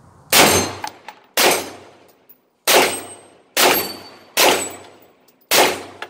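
A Stribog SP9A1 9mm pistol carbine fires on an outdoor range in Conroe, Texas, in six sharp separate bursts, loud and close, each ringing off briefly, with short quiet gaps between.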